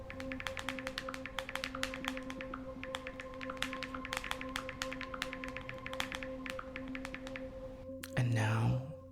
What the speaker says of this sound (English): This is you doing the same 5-star rating with a full set of acrylics.